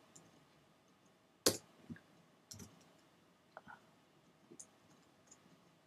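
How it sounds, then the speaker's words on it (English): A computer mouse clicks in a quiet room, with one sharp, close click followed by a few softer, scattered clicks and faint taps. "I'm going to double click here"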